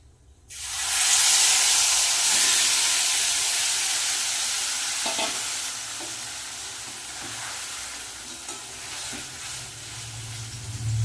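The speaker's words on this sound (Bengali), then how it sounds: "এই পনিরটা আমি এখন কড়াইতে দিয়ে দেবো" Marinated paneer hits a hot wok with a sudden loud burst of sizzling and steam hiss, which then settles into a steady, slightly softer fry that runs to the end.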